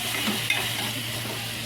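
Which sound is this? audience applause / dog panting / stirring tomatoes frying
stirring tomatoes frying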